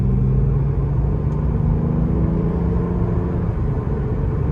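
A 2014 BMW 535i rolling along the road under light acceleration, its low engine hum and road rumble steady and close throughout, with no talking.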